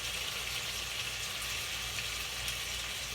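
Filet mignon frying in a pan with garlic and bay leaves, giving a steady, even sizzle of hot fat that holds without pause and without voices.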